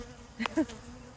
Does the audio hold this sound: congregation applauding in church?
no